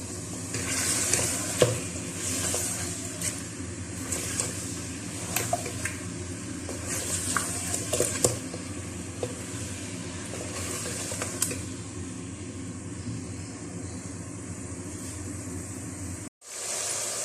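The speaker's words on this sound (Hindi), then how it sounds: "गोश्त को आपने 15 मिनट फ्राई करना है" Mutton pieces frying in a pan for nihari, a steady close sizzle with intermittent scraping and clinks from stirring, settling into a continuous hiss before a brief dropout near the end.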